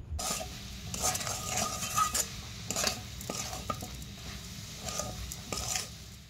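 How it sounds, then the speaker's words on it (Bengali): Grated coconut for coconut naru is stirred in a wok over medium heat, with a spatula scraping and knocking against the metal in uneven strokes over a low, constant sizzle, close and alone. "কড়াইটা বসিয়ে সমানে এইভাবে আমি নাড়তে থাকবো।"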